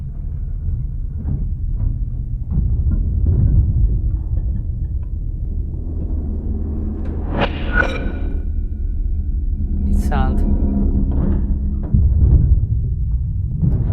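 Music pushed through a low-pass cutoff filter turns dull and muffled, as if heard underwater, with a deep rumbling bed and faint, smeared higher bursts rising now and then, steady and fairly loud with no speech.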